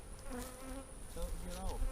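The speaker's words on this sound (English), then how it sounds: "one of your mean bees is getting on me again" A honey bee buzzing close by during hive work in Florida, its droning hum wavering in pitch as it circles near, with a faint steady tone in the background.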